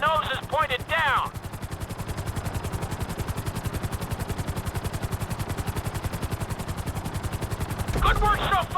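A helicopter in the GTA V flight school drones with a fast, steady rotor chop close by, while a voice talks briefly at the start and again near the end.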